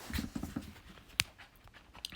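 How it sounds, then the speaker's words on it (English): A dog makes brief close sounds, a few quick soft panting or snuffling bursts early on and a sharp short noise midway, amid quiet room background. "Fucking dog, man."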